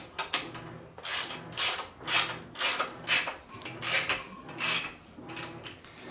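Ratchet wrench cranking over the crankshaft of a worn Ford 4.6 Triton V8 from an Expedition during teardown, a series of loud, close metallic clicking bursts in an uneven rhythm, each stroke a short ratcheting rattle.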